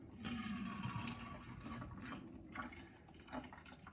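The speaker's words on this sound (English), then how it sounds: "We're going to pour out that water." Rinse water pours out of a Chemex coffee brewer in a steady, gushing stream close by, tapering off with a few final splashes.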